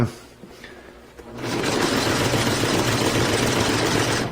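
A sewing machine stitching tarp material for a stealth camping shelter starts up after a quiet moment and runs steadily at speed, a loud continuous mechanical whir close by.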